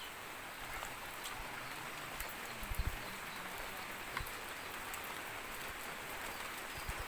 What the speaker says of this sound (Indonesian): Suasana hujan berkabut di kampung.